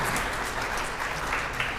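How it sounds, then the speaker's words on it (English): Applause during a live stream for musicians sight-reading a piece, a continuous, even roar of many people clapping, loud and close, with no break. "that deserves applause"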